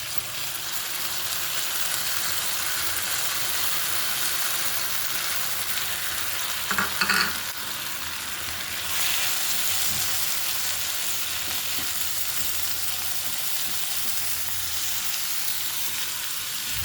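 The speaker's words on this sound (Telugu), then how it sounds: "పెసరపప్పు వేసేస్తున్నానండి" Soaked moong dal hitting a pan on low heat for a bachali kura curry, giving a steady, even sizzle and hiss throughout, with a brief louder crackle burst partway through.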